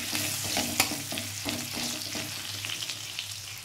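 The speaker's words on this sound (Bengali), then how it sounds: "একটু নেড়ে নেব এটা।" Crushed garlic sizzles in hot oil in a pan as it is stirred at the start of a rohu fish curry with turnip. Steady close frying crackle runs under light scraping stir strokes.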